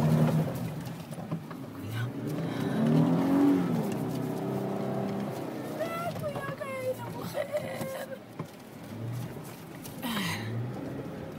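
A car engine revs and strains in desert sand in Oman, rising and falling in pitch over several seconds, with people talking and shouting over it.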